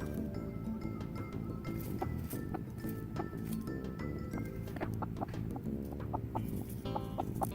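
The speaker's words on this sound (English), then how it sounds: "here is a chicken compilation." Chickens cluck steadily among other barnyard noise, a dense, continuous layer of overlapping calls with occasional sharper squawks.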